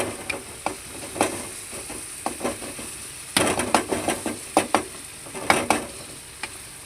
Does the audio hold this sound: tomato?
yes